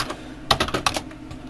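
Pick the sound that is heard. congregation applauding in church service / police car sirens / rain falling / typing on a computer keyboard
typing on a computer keyboard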